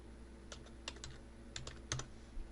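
Quiet keystrokes on a computer keyboard as a message is typed, a few irregular clicks spaced out over a couple of seconds, close and faint with no speech.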